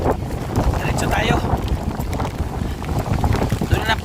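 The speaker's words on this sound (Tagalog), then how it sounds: "Lakas ng hangin." Strong wind gusts roar and buffet the microphone continuously, a loud broadband rush with rising and falling swells on a riverside trip to Catubig town, and voices are faintly audible under the gusts.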